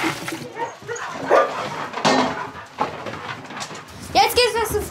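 Several huskies bark and yip excitedly at feeding time, bursts overlapping one another at close range amid general commotion.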